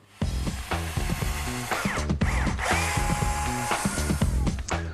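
A power drill whirs loudly and steadily, drilling out large wall plugs, its pitch shifting as it bites into material, with a brief pause midway before drilling resumes.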